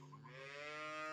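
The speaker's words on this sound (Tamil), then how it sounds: "இது சினை மாடுங்க. அது கறவை மாடு." A cow on a farm gives a long, steady moo with a rich harmonic tone that swells slightly louder toward the end, heard alone without talk.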